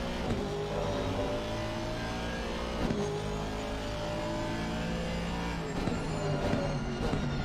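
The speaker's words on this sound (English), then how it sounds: "in his Aston Martin." An Aston Martin GT3 race car at speed around Donington Park, its engine a continuous loud drone that rises and falls through gear changes and corners for the whole stretch.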